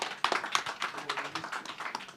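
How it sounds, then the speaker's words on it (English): A small audience applauding at an Indonesian economic development event, sparse and fairly quiet claps in an uneven pattern, a handful of hands rather than a full crowd. "Let's give a round of applause."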